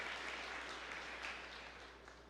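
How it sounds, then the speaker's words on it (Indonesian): A church congregation applauds during a sermon, faint, steady clapping from many hands heard at a distance, tapering slightly toward the end. "Yang setuju berikan tepuk tangan yang meriah."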